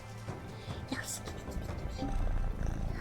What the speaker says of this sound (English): Purr, purr, purr, purr.